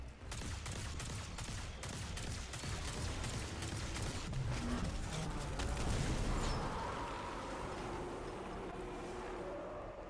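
A Nova Bomb super ability detonates in Destiny 2, heard amid dense game combat with rapid gunfire bursts and a sustained roaring blast wash that swells near the middle and fades out.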